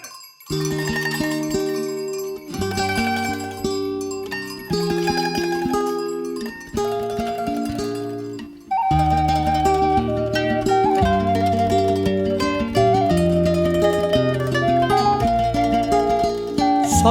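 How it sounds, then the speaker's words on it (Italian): A reedy Sicilian ciaramella bagpipe plays a Christmas folk melody steadily over a sustained drone, loud and close, with a brief pause midway before the tune resumes fuller. "la ciaramedda suona così."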